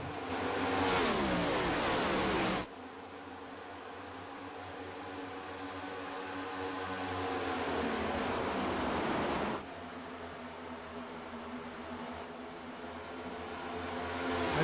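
A pack of race cars at Chicagoland roars past at the green flag start, a loud sustained engine drone with rising and falling pitch as the field streams by, then a second swell of cars passing.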